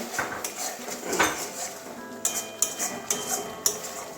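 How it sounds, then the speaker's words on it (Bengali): A spatula clatters against a pan as spices are stir-fried for a potol (pointed gourd) curry, with sharp metallic clinks at an irregular pace near the listener. "দু তিন মিনিট ভালো করে কষিয়ে নেবো"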